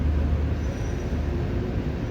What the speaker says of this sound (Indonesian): Oh, kereta api Singasari cuy.